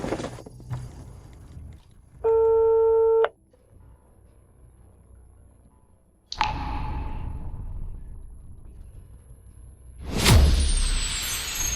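A single electronic telephone tone sounds from an unreachable call, one bright beep lasting about a second, set among scattered whooshing and thudding noises.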